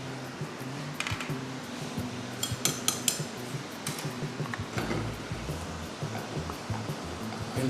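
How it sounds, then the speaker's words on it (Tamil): Fried chicken pieces are dropped and tossed into orange chicken sauce in a pan, giving scattered clinks and knocks of utensils against metal over a low kitchen background, with a few sharper clatters. "இந்த மாதிரி இதில் இந்த ஃப்ரை பண்ண வச்ச சிக்கனை நம்ம சேர்த்துக்கிறோம்."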